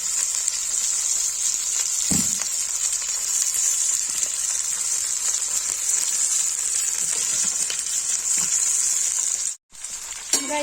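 Nadru (lotus stem) fries in a pan with a loud, steady, crackly sizzle, broken by a few soft clinks and one short dropout near the end.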